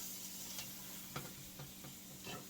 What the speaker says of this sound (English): I'm just gonna keep moving this around, okay? The butter action going on there.